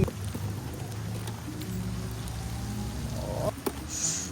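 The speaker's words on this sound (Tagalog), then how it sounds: "mahina naman ang ulan eh" Light rain patters steadily on surfaces outdoors in Quezon Province, a soft continuous hiss with scattered drop ticks and a faint bird call near the end.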